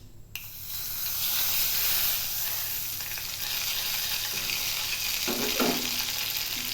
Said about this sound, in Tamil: கடுகு பொரிஞ்சிச்சு, இதை ஊற்றிடலாம்.